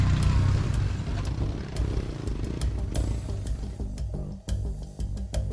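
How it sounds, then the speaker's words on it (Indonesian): A stalled motorcycle is pushed across a river crossing, its engine idling unevenly with clattering knocks and splashy rumble up close, loud and continuous, with no voices. "motor seringkali mogok di tengah sungai seperti ini, sehingga kami harus saling membantu agar motor ini bisa jalan"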